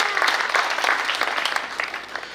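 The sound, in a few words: audience light clapping at a poetry recital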